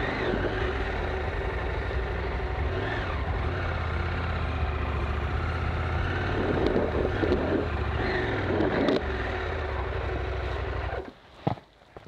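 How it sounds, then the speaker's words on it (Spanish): Motorcycle stuck in mud in Aragón, Spain, its engine held at a steady loud drone under heavy throttle for about eleven seconds, then cutting off abruptly with a brief clunk at the end. "Tendría que salir dando gas a tope."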